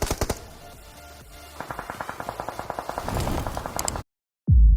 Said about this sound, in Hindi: पीछे से फायरिंग के साउंड आए